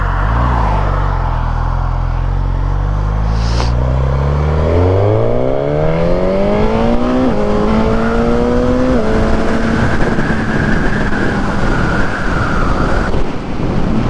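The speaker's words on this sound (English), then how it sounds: "I can't hop on this bike and not give it a bit of juice." A 2025 Suzuki GSX-S1000 motorcycle accelerates hard, its engine pitch climbing steeply through several gear changes into a loud, sustained high-revving wail with wind rush behind it.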